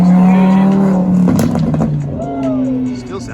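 A tuned Audi S8 making over 800 wheel horsepower revs loudly and close up, its engine note rising and falling while people talk over it.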